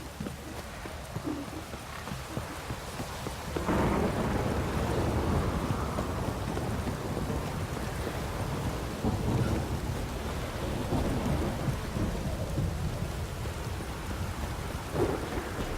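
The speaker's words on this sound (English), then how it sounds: "A storm, damn it." Thunderstorm in a video game, with steady rain hissing throughout and deep rolling thunder swelling in after a few seconds, the downpour loud and continuous with occasional rumbles.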